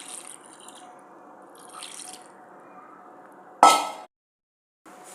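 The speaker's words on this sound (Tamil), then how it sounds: "பாலை ஊற்றிப்போம்." Milk splashes briefly into a bowl of cooked, mashed rice for curd rice in a quiet kitchen, a single short liquid gush after faint background noise.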